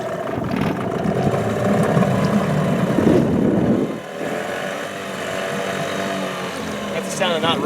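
A steady boat motor drones loudly with a rushing, churning undertone, much like an outboard engine on water in a marsh; muffled voices can be heard beneath it.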